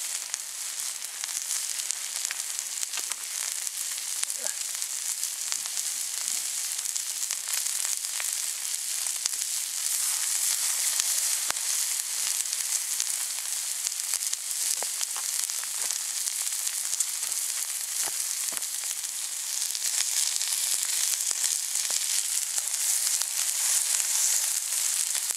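Steak sizzling over a camp fire barbecue, a steady, dense hiss of frying fat with scattered small pops running throughout, fairly loud and close with no talk.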